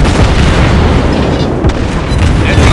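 A deep, loud booming explosion as an enemy warship is destroyed in the naval battle game World of Warships Blitz, a sustained rumbling blast with heavy low-end roar and a brief sharper burst midway.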